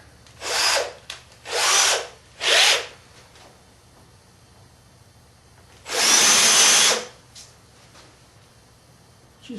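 A power drill countersinks holes for small number 4 screws while a Longworth chuck is being built, heard as three quick close whirring bursts followed by one longer, louder burst, with quiet pauses between.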